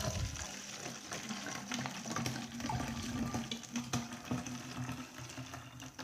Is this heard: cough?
no